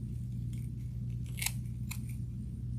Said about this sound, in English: I may take my scissors and just trim